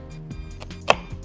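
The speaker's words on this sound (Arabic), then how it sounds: "هاخد البصله بتاعتي كده بالنص" A knife chops through an onion on a cutting board for a cucumber salad, giving a few sparse, close knocks with one sharper stroke near the middle, over a low background hum.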